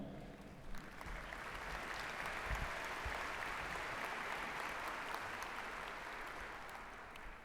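An audience at a school district commencement ceremony gives sustained applause, a dense even wash of clapping that fills the hall for several seconds without fading.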